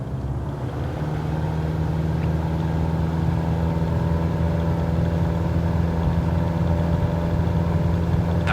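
Single piston aircraft engine run up to full takeoff power in Microsoft Flight Simulator 2020, a steady loud droning hum with strong low harmonics that holds constant throughout, no voices over it.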